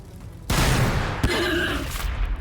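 Fragstorm launchers fire in Warhammer 40K: Battlesector, a sudden loud burst of rapid explosive volleys that rolls on, with a second sharp blast midway before the barrage fades out.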